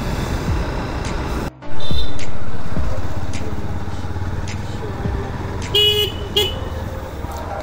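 Main-road traffic in the Behala area of Kolkata: cars and motorbikes rumble past continuously, one loud vehicle sweeps close by, and a few short horn toots sound near the end.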